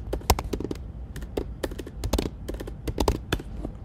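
Fast typing on a computer keyboard, a close run of crisp clicks in quick bursts with short pauses, and no talking.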